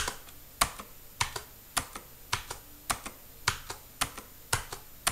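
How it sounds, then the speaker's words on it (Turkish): Blue switches on an Inca IKG 451 Empousa II mechanical gaming keyboard are struck one at a time in a steady rhythm, each key giving a crisp, loud clack up close in a quiet room. "Şimdi arkadaşlar klavyeyi Blue Switch'in sesleriyle deneyeceğim."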